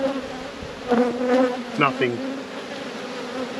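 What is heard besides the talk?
honeybees buzzing during a hive inspection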